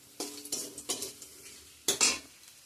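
Panch phoron spices added to hot oil for a masoor dal tempering, heard as a few quiet stirring scrapes and short bursts of sizzle, faint and close with no talking.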